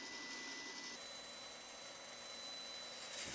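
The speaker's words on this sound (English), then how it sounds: "So I get it going about medium speed on the drill" A power drill turns at medium speed while shaping a wooden tenon on a 3/4 inch T-fitting piece, a steady faint whirring hum that shifts in tone partway through, with no talk.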